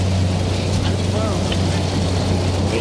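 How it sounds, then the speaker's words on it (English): Rocket engines igniting at launch of the NG-11 resupply mission to the ISS, a steady, dense broadband roar over a constant deep low hum that fills the whole stretch without a break. "And we have engine ignition."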